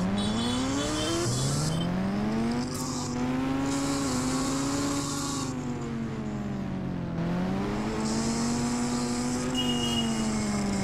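Motorbike engine in GTA V, ridden during stunts on a ghost rider cheat bike, a steady revving drone whose pitch rises and dips with throttle changes across the run, loud and continuous with no talk.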